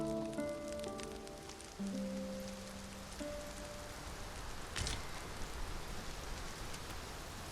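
Rain falls steadily in the fantasy world of Dragon's Dogma II, a soft even hiss of drops with a few faint tonal game sounds early on and a brief rustle midway, no voices.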